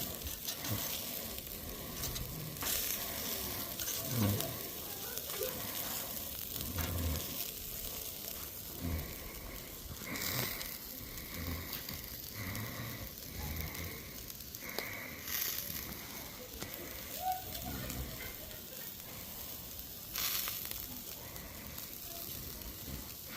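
Riblets sizzle steadily on an Even Embers suitcase grill, a continuous close frying hiss with scattered crackles and pops, occasional light clatter from turning the meat, and no talking over it.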